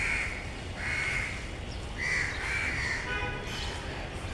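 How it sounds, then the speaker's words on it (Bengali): Crows caw again and again across Dhaka in the early morning, a steady chorus of harsh calls at moderate distance with no voices. "সেই কাকের ডাকের শব্দে ঢাকাবাসীর ঘুম ভেঙে যায়।"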